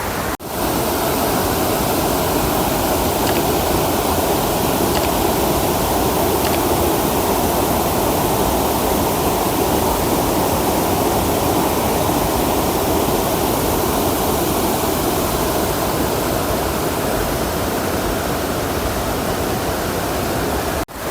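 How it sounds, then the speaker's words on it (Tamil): Fast-flowing water of the Siruvani stream rushes in a steady, loud, unbroken roar for the whole stretch, with no voices over it. "இந்த பாருங்க, தண்ணி இந்த பக்கம் நல்லா ஸ்லோவாக தான் வருது"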